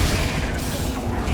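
Bombarda and Confringo spell explosions in Hogwarts Legacy give a loud, continuous roaring blast with dense rumbling low end that holds steady throughout.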